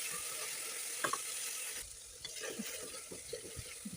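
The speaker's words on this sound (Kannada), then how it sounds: "ಈಗ ಅದಕ್ಕೆ ಒಂದು ಟೊಮೆಟೊನ ಹಾಕ್ತಾ ಇದ್ದೀನಿ. ಈಗ ಫ್ರೈ ಮಾಡಿ ಇದನ್ನು ಚೆನ್ನಾಗಿ." Chopped ginger and tomato fry and sizzle in a pan, a steady hiss with a few clinks and scrapes of stirring, close and fairly quiet, no voices.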